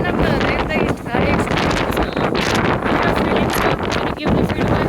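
Strong wind at the Point Reyes coast in California buffets the microphone with a loud, continuous roar and gusty swells, while voices talk faintly beneath it.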